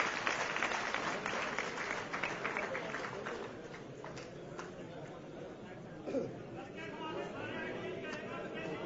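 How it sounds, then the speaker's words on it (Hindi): Audience at a booth coordinators' meeting in a hall at the National Club, Chandni Chowk, Delhi, clapping to welcome Prabhat Jha; loud, dense applause in the first few seconds thins into crowd chatter and murmur. "जोरदार ताली बजा के स्वागत कर दीजिए।"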